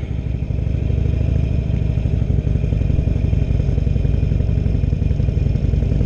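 A 2016 Harley-Davidson Roadster engine runs steadily close by, a loud, continuous low throb with a faint mechanical clatter throughout, no talking.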